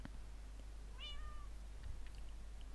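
A single cat meows once, a short rising-then-falling call standing clearly above a steady low hum, with no one talking.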